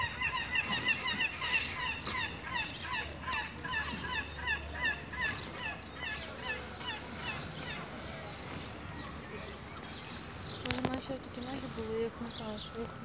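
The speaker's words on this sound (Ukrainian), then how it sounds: "Ну супер, з цими чайками." Many seagulls call repeatedly nearby, their cries overlapping in a busy chorus, with some voices faintly in the background.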